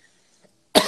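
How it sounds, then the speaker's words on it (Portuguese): A single short, dry cough bursts out sharply after near silence, close and loud. "eu tô com uma tosse seca muito chata"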